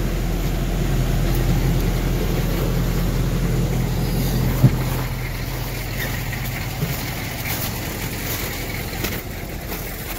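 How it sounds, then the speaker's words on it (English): A Ford F150 pickup, stuck in ice and hitched to a trailer, pulls forward with a steady, loud, low engine rumble and one brief knock partway through. "let's see if I can pull forward now in the truck."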